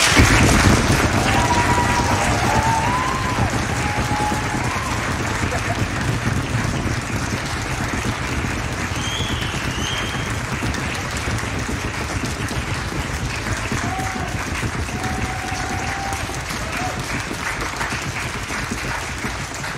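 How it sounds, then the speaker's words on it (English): Audience applause fills the hall after a school orchestra concert, dense steady clapping that starts loud and holds on for about twenty seconds with a faint voice or two underneath. "We can give them a round of applause."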